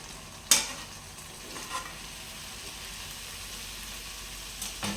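Capsicum and tomato pieces stirred and frying in a pan for a capsicum curry, a soft continuous sizzle broken by a sharp spoon scrape at the start and a couple of lighter scrapes later.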